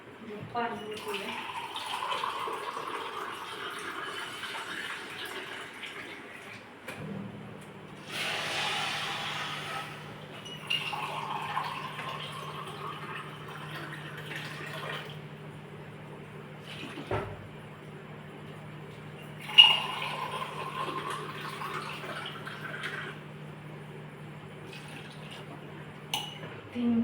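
Water is poured into a pot of dal with spinach for a Marathi spinach-dal dish, splashing and gurgling in several bursts at close range, with a low steady hum running beneath.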